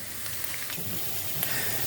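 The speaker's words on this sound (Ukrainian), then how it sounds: "а друге поки що пасирується" Sauce ingredients sauté in a pan on a gas stove, giving a steady, close sizzling hiss with faint crackles and no speech.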